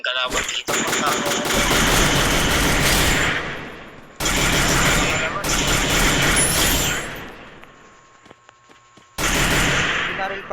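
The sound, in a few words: gunfire in Free Fire video game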